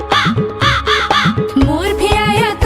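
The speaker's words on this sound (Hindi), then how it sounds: "कौवा भी आया" Several loud, harsh crow caws in quick succession, close and clear, repeated in a rapid rhythm with no talking.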